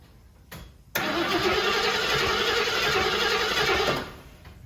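A 1974 AMC Javelin engine cranking after gas is added: a brief knock, then a steady loud whirring crank lasting about three seconds before it stops, with no catch, close by and without talk.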